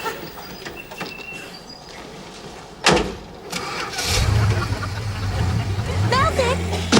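A car engine cranks with a sharp burst and catches, settling into a steady idling rumble as the car is moved, with people talking over it.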